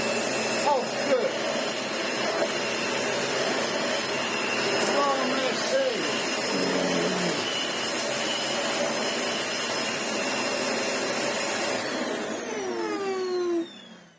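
A Dyson DC18 Slim upright vacuum cleaner runs with a steady, loud motor whine, its pitch shifting slightly as the machine is handled, then winding down near the end; a voice speaks briefly over it.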